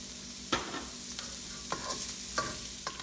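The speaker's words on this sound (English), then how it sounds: "we're done stir frying carrots" Carrots sizzle in a hot pan while a utensil scrapes and stirs in a few sharp, irregular strokes, close and fairly quiet, with no voices.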